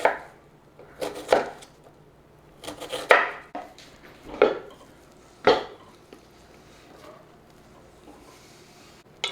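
Onions being chopped with a knife on a board, a handful of separate sharp cutting knocks spaced unevenly with quiet gaps between them, near and alone.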